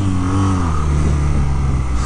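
BMW R nineT 1200 oil-cooled boxer motorcycle engine held at the rev limiter, a loud, close, steady high-revving drone with a slight pitch drop early on; no speech.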